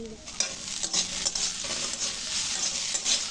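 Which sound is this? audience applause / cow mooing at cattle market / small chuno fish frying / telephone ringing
small chuno fish frying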